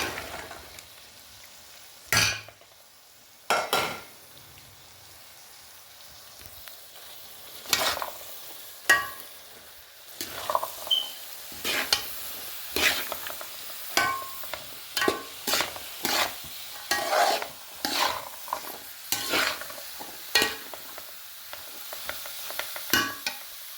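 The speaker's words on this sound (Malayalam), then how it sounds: "ഇത് ഞാൻ ഇതിനകത്തേക്ക് പാനിലേക്ക് ക്യാരറ്റ് അരിഞ്ഞ് വെച്ചിരിക്കുന്നത് ആഡ് ചെയ്യണം." Chopped carrots fry in a pan for a carrot and lemon pickle, a quiet steady sizzle broken by frequent stirring scrapes and knocks that come in quick irregular bursts, up close and without voices.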